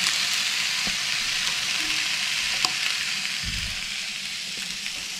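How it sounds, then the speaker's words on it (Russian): A large dorado fish sizzles on an Optigrill at a campsite, giving a continuous bright frying crackle with scattered small pops, steady and close throughout with no talking. "Интересно, сколько она теперь будет жариться?"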